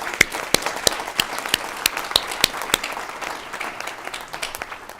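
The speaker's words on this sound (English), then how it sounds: "Give yourselves a round of applause." An audience claps steadily, a dense patter of many hands with sharp individual claps standing out, fairly close and sustained throughout.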